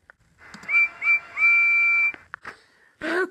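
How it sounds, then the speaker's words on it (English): A toy train engine's whistle toots in three bright, tonal blasts, the last one long and sustained, followed by a few small clicks and a short noisy burst. "He tooted his whistle loudly."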